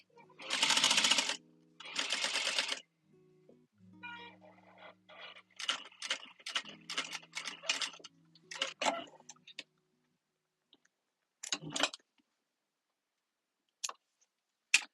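Home sewing machine stitching a hip bag, two short loud runs of rapid needle chatter followed by a quieter sequence of brief bursts and clicks, then scattered ticks with near silence between.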